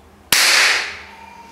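A single sharp shot from a Gamo P900 4.5mm air pistol, fired indoors, gives a sudden loud crack that decays over about a second, with no other sounds around it.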